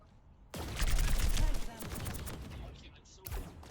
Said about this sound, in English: I want to try this sticky bombs.